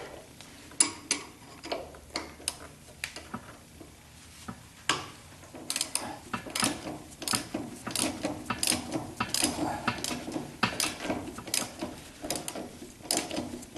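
A ratchet wrench clicks in short bursts of rapid ticks while loosening the stabilizer bar bolts on a 1976 Corvette, close and moderately loud, with no speech.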